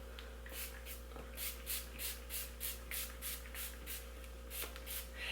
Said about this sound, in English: I always just shake it and then I spray it in my hair like so.